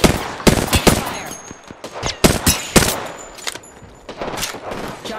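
Rapid bursts of gunfire from the video game Apex Legends crack out in close, loud volleys with short gaps, a fast automatic rattle dominating the mix with game sound effects in the background.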